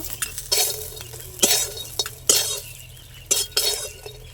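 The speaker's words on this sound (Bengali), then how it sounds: "এই তেলের মধ্যে আমি বড়ি ভেজে নেব।" Lentil dumplings (bori) frying in oil in a pan and being lifted out, with repeated bursts of crackling sizzle and sharp utensil clinks and scrapes against the pan, close and without talk.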